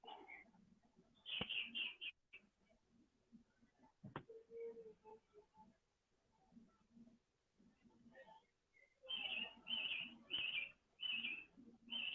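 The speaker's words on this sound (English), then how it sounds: "What sort of bird is that, Wayne?" An unidentified bird calls in short repeated bursts of high, chirping notes, faint and a little distant, with quieter gaps between bursts, while people talk in the background.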